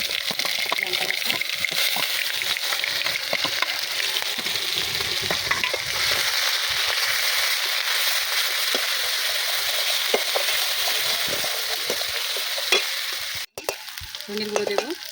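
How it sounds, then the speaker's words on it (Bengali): Ginger-garlic, onion and chilli pastes sizzle and fry steadily in hot oil for a fish curry, a loud continuous hiss with stirring scrapes, briefly cut off near the end before resuming. "এখানে আমি আদা রসুন বাটা দেবো, পেঁয়াজ বাটা দেবো, লঙ্কা বাটা"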